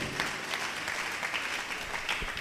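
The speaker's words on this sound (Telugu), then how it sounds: "మర్రా గట్టిగా చప్పట్లు కొట్టి గట్టిగా దేవుని మహింపడు." A church congregation claps loudly and steadily, dense overlapping applause filling the room without pause.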